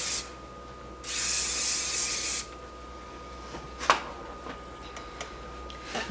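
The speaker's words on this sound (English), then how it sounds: "just take your hairspray and give that a good spray." A single sustained hairspray spray hisses for about a second and a half, fairly close, followed by quiet room tone and a few faint clicks.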